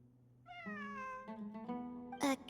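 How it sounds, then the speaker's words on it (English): A cat gives a drawn-out, tonal meow followed by a couple of shorter ones, fairly faint and alone, ending in a brief louder cry. "It really is a cat."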